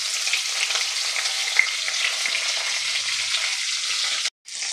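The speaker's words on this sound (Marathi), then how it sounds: "सगळ्या फोडी यामध्ये आपल्याला घालायच्या आहे आणि 2 ते 3 मिनिटे आपल्याला परतवून घ्यायचं आहे" Bitter gourd pieces stir-fried in a pan over a low flame, a steady, close sizzling and crackling that runs continuously with no talk, cutting out briefly near the end.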